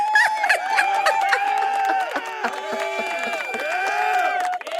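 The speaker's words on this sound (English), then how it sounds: "I'm giving myself a fucking round of applause" A loud round of crowd cheering and applause, many voices whooping together over clapping, sustained and bright for several seconds before cutting off abruptly.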